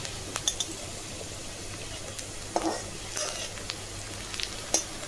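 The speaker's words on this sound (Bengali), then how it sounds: "পেঁয়াজ রসুন শুকনো লঙ্কা কাঁচা লঙ্কা আমার একসাথে দিলাম, ভাজা ভাজা হয়ে গেছে" Onion, garlic, dried red chilies and green chilies frying together in a pan, a soft continuous sizzle with occasional sharper crackles and light utensil clinks, fairly quiet and without talk.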